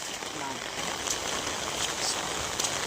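Rain falls steadily in an outdoor crab-catching spot, a dense, even hiss of drops on surfaces and water that sounds fairly close, with a few faint sharper ticks.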